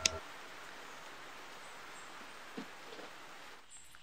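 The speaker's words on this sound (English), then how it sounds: "the rain's starting to ease up" Outdoor rain falls as a soft, steady hiss with a few sharper drop ticks, faint and even throughout, with no voices.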